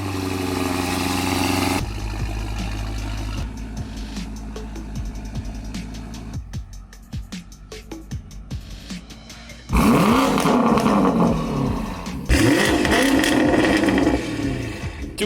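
BMW X5 engine heard near and loud, shifting between lower idle stretches and sharp rev bursts, with abrupt cuts between sections.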